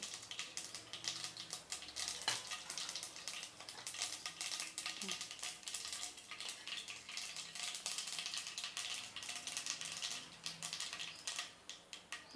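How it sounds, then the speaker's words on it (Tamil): Mustard seeds and urad dal crackle and splutter in hot oil for sambar, a steady dense patter of sharp pops running throughout, close and fairly loud. "இப்போ கடுகு நல்லா பொரிஞ்சிருச்சு"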